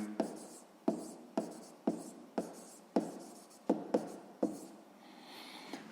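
Pen strokes on paper while a sixth-grade math proportion is written out: about nine crisp, close scratching taps in an uneven rhythm, with no talking.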